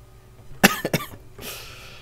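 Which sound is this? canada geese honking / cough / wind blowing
cough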